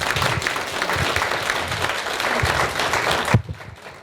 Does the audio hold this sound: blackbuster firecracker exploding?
no